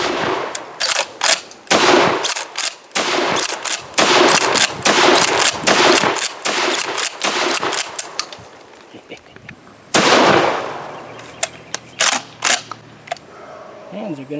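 Benelli Supernova LE pump shotgun firing Aguila mini shells outdoors, a string of sharp loud reports in quick succession with gaps between, followed by a talking voice.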